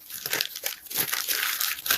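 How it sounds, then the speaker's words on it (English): A bag is unwrapped close by. Crinkly plastic rustles and crunches in several quick bursts over two seconds, with no talk. "Let me unwrap it."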